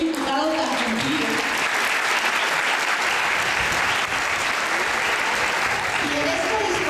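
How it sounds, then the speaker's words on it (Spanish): Applause at a municipal government report for a federal deputy: a roomful of people clapping steadily and fairly close, a dense sustained patter with faint crowd murmur underneath. "pida un aplauso por ser un diputado tan cumplido"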